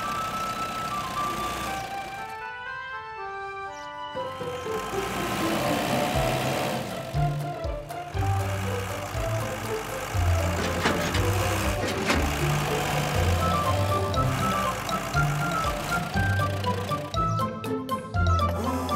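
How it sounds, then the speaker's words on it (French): Cartoon crane truck and tow truck rolling out of a garage: chiming musical tones and beeps over a rumbling engine, with engine noise and jingles shifting across the scene. "Le camion grue et la dépanneuse sortent du garage."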